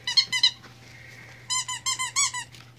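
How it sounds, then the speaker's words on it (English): A rubber squeaky dog toy squeaks in two rapid bursts: a quick pair of squeezes, a pause with a faint steady tone, then a run of five sharp squeaks close by, with no talking. "Yeah, you got a squeaky toy."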